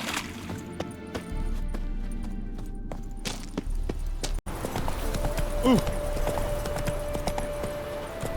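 Horse hooves clip-clop in a steady walking rhythm in The Witcher 3, coming from Geralt's horse Roach on open ground; ambient game sound fills the background, and the sound shifts after a brief cut midway.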